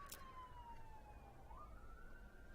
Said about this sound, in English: I keep hearing sirens go by.